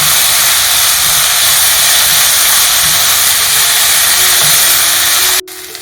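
Onion, ginger and garlic saute in a pan with a loud, steady hiss of sizzling that runs almost unbroken and then cuts off abruptly near the end.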